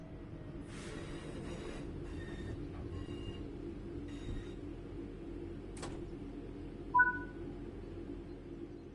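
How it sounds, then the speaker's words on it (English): Train in Train Sim World 5 slowing to a stop: a quiet low rolling rumble with bursts of brake hiss, scattered clanks and a brief high squeal near the end, with no voices. "Bring the train to a stop by applying some brake using the power brake handle."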